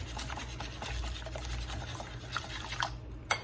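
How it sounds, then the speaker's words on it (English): Whisk beating eggs with black pepper and salt in a bowl for mini frittatas, a quiet, fast wet clicking and sloshing that keeps a steady rhythm, ending with a couple of sharper taps. "Give it a good whisk."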